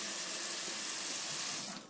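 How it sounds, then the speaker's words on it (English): Cold water running from a tap into a kitchen sink, a steady close hiss and splash that cuts off abruptly near the end. "you're going to fill this sink up with nice cold water"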